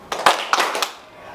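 A seated audience at a teachers' training session claps hands in short, loose bursts, three quick uneven claps close by in a room.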